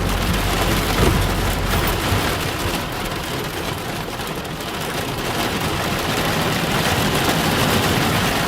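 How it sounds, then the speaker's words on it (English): Heavy rain hammers down during an intense Southern Alberta thunderstorm, a loud continuous roar with a low rumble of thunder early on, heard from a vehicle driving through the storm. "Look at the rain."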